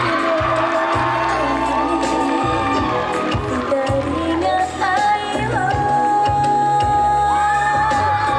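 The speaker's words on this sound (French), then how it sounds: "Un tonnerre d'applaudissements s'il vous plaît pour le groupe Bungo Stray Dogs." A crowd at a cosplay parade at Mulhouse Japan Manga Wave cheers and whoops for a Bungo Stray Dogs cosplay group. The cheering is loud and sustained, with music playing underneath.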